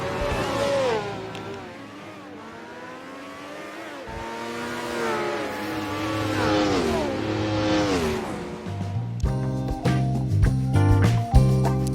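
Vintage 1967 Formula 1 race cars in the racing game Assetto Corsa rev loudly and climb through the gears, engine pitch rising and falling repeatedly, with a sharper, busier engine note near the end.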